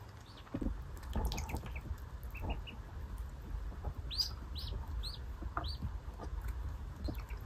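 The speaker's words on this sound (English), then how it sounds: "Now I'm going to introduce you to all of the ducklings and what their breeds are." Blue Swedish ducklings in a brooder setup give repeated high, thin peeping chirps in short bursts, with soft rustling and small knocks underneath at close range.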